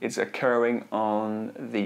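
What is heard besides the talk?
No everyday noises stand out.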